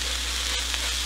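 Pork chops browning in a frying pan give a steady, dense sizzle, close and even throughout, with a constant low hum underneath and no talking.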